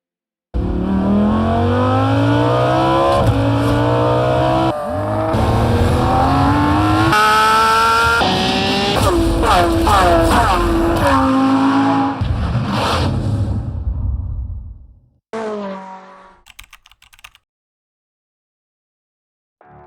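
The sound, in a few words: sports car engine revving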